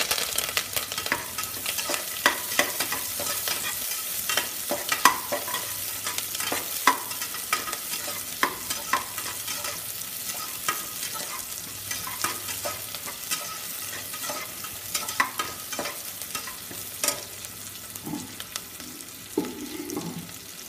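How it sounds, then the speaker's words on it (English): Chopped onions and green chili fry steadily in a pan for about twenty seconds, a constant close sizzle broken by frequent scraping stirs and sharp crackles. "Let's add these uh, cut onions and green chili."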